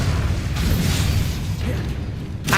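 In Hogwarts Legacy, the Bombarda spell goes off as a loud, rumbling blast with heavy low-end boom, churning debris noise throughout and a sharp burst near the end.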